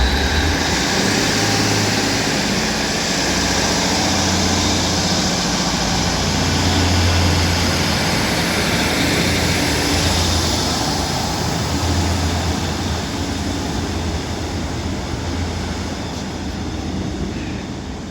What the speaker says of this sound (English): One 56403 departs Blackburn now with the 12:17 Northern service to Rochdale from Ribblehead